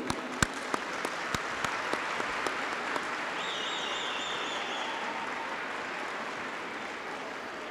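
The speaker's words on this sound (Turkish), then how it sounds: "Ben burada tüm özverileriyle sizlerin huzurunuzda eğitmenlerimizi alkışlamak istiyorum." Audience applause for sports instructors at a public speaking event, a dense steady wash of many hands clapping that follows a few separate claps at the start and continues throughout.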